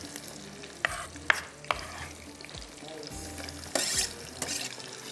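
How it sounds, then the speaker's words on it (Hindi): Chicken frying with garam masala in a pan, a steady close sizzle broken by several sharp stirring scrapes and clinks. "और इसको करते हैं अच्छी तरह से फ्राई। थोड़ा सा इसको ब्राउन करना है"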